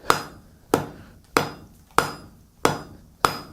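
A hand hammer pounds heated round steel to draw out a taper: six evenly spaced, sharp ringing blows, close and loud, each decaying quickly before the next strike.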